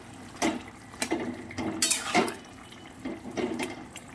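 Soya chunk and potato curry boiling in a pot, with soft bubbling and intermittent liquid splashes and pops, close and moderately quiet.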